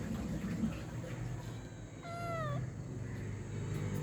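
A cat being held gives one drawn-out, wavering meow over steady background noise, close and clear.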